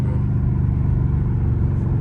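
Deep, loud, steady engine rumble from a Dodge Charger Scat Pack in track mode after a downshift, heard from inside the cabin with a low throbbing tone and no talk.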